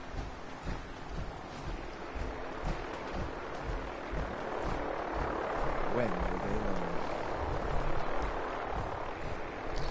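A Vertibird helicopter in Fallout 4 with rotor thump and engine roar building steadily louder over several seconds, a voice talking over it partway through.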